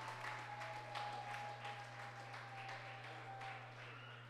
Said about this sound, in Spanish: Un aplauso para la sierva.